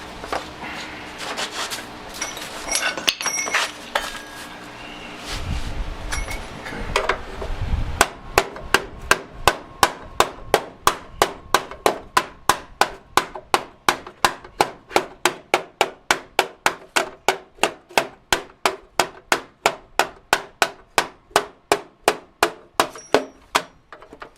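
Clattering and shuffling give way to steady, evenly spaced hammer blows on a rusty door post of a 1993 Ford Mustang GT Foxbody, dozens of sharp strikes in a fast, regular rhythm.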